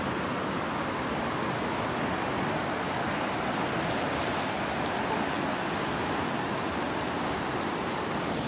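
A mountain river rushes beside the Besham-Chillas road in northern Pakistan, a constant, even roar of churning water with no break.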